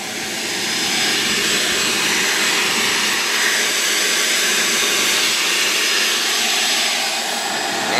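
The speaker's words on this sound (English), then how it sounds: "I'm gonna hit it with the hose" A garden hose sprays water steadily onto a Ruud condensing unit outdoors, giving a loud, continuous hissing wash that holds level for the whole stretch with no talking.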